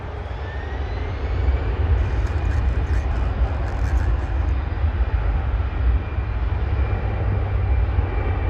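Air Canada Airbus A320 jet at Toronto airport, heard as a steady broadband engine roar with heavy low rumble, moderately loud and continuous throughout with no voices.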